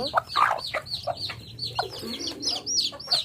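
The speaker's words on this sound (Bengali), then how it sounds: "বাচ্চা মুরগিগুলো নুডলস খাওয়ার জন্য দৌড়াদৌড়ি করছে" Young chicks on a farm clucking and peeping in quick, repeated bursts as they run to eat noodles, close and fairly loud with no talk.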